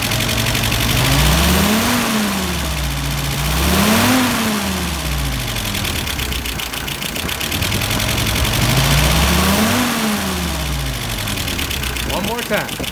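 The engine of someone's YS 37SA revs up and down in slow repeated swells during a tune-up, close and loud, with a rough idle between pulls and voices talking over it.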